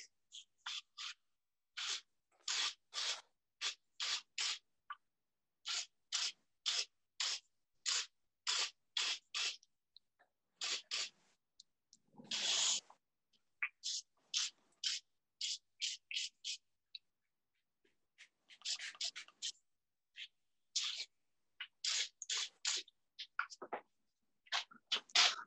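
Repeated sharp squirts from a spray bottle misting a watercolour painting, fired in quick clusters of short hissing bursts across the whole stretch, fairly close and with no talking.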